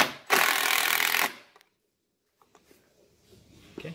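A power driver drives screws while a screen door is installed, with one loud steady burst of about a second followed by quiet handling noises and faint clicks.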